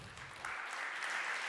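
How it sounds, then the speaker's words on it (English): At a museum symposium, an audience breaks into applause as a speaker is welcomed on stage. Scattered noise swells into steady, full clapping from a sizable crowd after a brief lead-in. "with a big round of applause again, Ulrich Raue"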